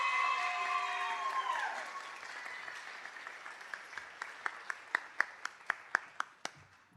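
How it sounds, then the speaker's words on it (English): Applause from the audience at a board meeting, a smattering of claps that thins out into a few distinct, evenly spaced loud claps at the end, following a brief voice at the start. "Let's give her one more round of applause."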